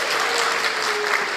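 A dinner audience at an anniversary gala breaks into loud, dense applause, a close, continuous wash of many hands clapping.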